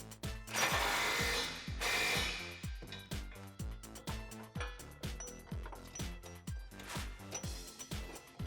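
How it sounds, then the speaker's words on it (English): A ratchet fitted with an 18mm socket tightens a body bolt on a Jeep Wrangler JK 4-door during a rock slider install, giving a steady run of close, rhythmic clicks that lasts throughout. "Grab your 18mm socket and tighten this down."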